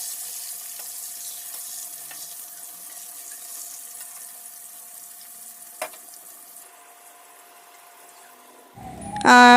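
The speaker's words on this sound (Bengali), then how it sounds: "এখানে কাঁকরোলটা ভেজে নিচ্ছি" Spiny gourd (kakrol) frying in a pan gives off a steady, even sizzling hiss that runs quietly for several seconds. It ends in a sudden louder clatter of movement.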